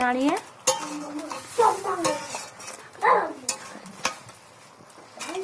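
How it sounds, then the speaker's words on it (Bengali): Curry is stirred in a pan after water is added, with intermittent scraping and clanking of a spoon against metal, a soft background sizzle and some brief voice-like sounds. "জল দিয়ে দিচ্ছি, দিয়ে নাড়িয়ে"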